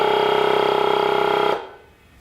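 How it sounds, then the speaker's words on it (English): A RIDGID 18-volt cordless air compressor runs loud and close with a rapid pulsing hum while filling a tire, then cuts off abruptly and leaves quiet. "successful fill-ups from 10 psi to 25 psi with the RIDGID cordless compressor"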